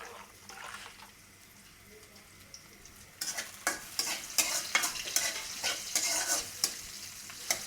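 Onion and garlic fry in hot oil for dal, a quiet low simmer at first, then a loud crackling sizzle with sharp bursts and stirring scrapes once more aromatics hit the pan.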